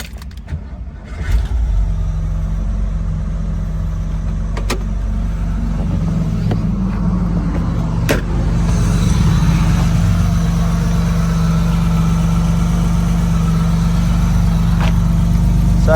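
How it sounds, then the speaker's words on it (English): A vehicle motor cranks and catches, then settles into a steady, close idle with a low rumbling drone and a few faint clicks over it. "The motor fires up, sounds good."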